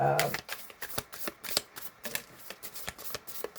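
A Korean flower card deck being shuffled by hand: a run of close, rapid card flicks and riffles in an uneven rhythm, with a short bit of voice at the start.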